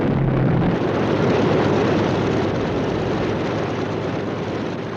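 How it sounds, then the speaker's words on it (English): Engines of US dive bombers approaching at high altitude over the Japanese fleet at Midway, heard as a broad, steady roaring drone that holds loud and constant throughout, fading only slightly toward the end. "US dive bombers, approaching unseen at high altitude"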